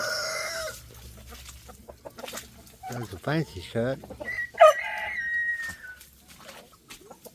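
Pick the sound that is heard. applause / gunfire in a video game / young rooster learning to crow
young rooster learning to crow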